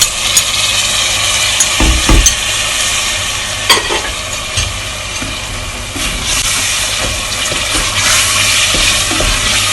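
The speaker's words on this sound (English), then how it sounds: "We'll be sizzling a lot, so be careful." Minced lamb fries in a pan for keema rice with potatoes, a loud, continuous close sizzle with occasional scraping stirs and clinks against the cookware.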